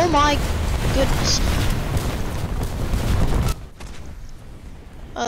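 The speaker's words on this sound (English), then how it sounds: "they must have changed the sound effects for, artillery, because that does not sound like how it does" Artillery fire in a tank video game with the Churchill Crocodile: a loud, sustained booming rumble for about three and a half seconds, then a sudden drop to a quieter low background rumble.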